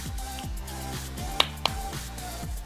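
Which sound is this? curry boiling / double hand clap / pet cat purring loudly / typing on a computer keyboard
double hand clap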